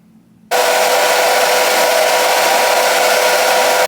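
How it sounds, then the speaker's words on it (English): Hair dryer blowing steadily on a long 28-inch deep wave human-hair wig during install, switching on abruptly after a faint hum and running loud and continuous to the end. "now we're gonna go ahead and do this side and blow dry"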